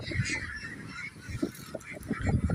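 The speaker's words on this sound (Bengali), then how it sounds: "এখানে আমরা যখন হাঁসগুলো ছেড়ে দিচ্ছি সবাই সারিবদ্ধভাবে বেরোচ্ছে" A flock of Peking ducks being released, quacking and honking together in a busy, overlapping chorus, moderately close.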